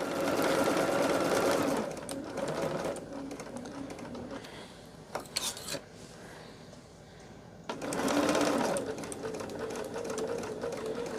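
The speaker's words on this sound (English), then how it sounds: "So now we are nesting, sewing over those nested seams." A sewing machine runs in steady bursts while stitching quilt block seams over nested seams for a flowering quilt, loud stretches of motor hum broken by a quieter pause and a few brief clicks before another long run.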